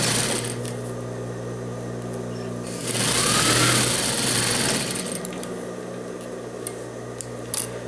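A sewing machine stitches leftover binding onto the pocket of men's tailored trousers, giving a steady close mechanical whir that swells louder for a couple of seconds midway before settling back to its even running hum.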